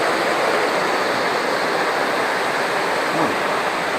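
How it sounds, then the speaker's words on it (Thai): Steady, dense rushing of the Mae Kampong waterfall in rainy season fills the scene, a constant broadband roar with no breaks, close and fairly loud. "น้ำตกไหลจากข้างบนลงไป สู่ด้านล่างของหมู่บ้าน"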